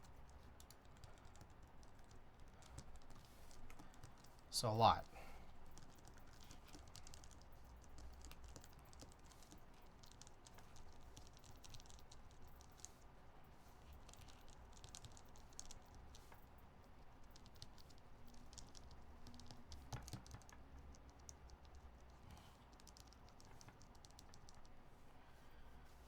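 A computer keyboard is tapped key by key to find dead keys, producing a steady patter of light clicks throughout. One louder clack stands out near the start, and a voice speaks briefly.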